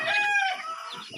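Three-month-old Brahma chickens in a backyard farm give a close, loud clucking call with a drawn-out, crow-like squawk, followed by quieter murmuring clucks.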